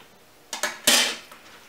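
A Tupperware MicroCook container is opened, with a couple of quick plastic clicks followed by a louder snapping release and a brief rustling tail, close and alone.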